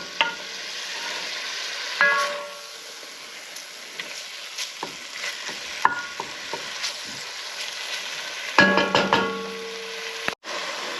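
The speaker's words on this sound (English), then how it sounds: "I'm just breaking up my hamburger meat with a spoon as it browns" Ground hamburger meat browning in a pan while a spoon breaks it up: a continuous soft sizzle broken by sharp clicks and knocks of the spoon against the pan, with a cluster of scraping taps near the end and no voices.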